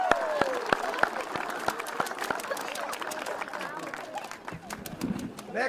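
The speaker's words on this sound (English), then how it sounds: "Another round of applause for our grade 2 students." Audience applause for grade 2 students at a city Arbor Day celebration with an elementary school, a sustained crowd clapping at moderate distance, dense and steady for several seconds before thinning slightly at the end.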